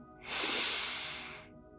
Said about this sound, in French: Inspirez profondément par les narines.